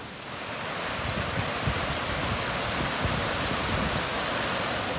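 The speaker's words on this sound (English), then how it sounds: "These are the rapids that all flow into it." Rapids rush steadily near Black Moss Pot in the Lake District, a dense, continuous broadband roar of flowing water close by with no voices.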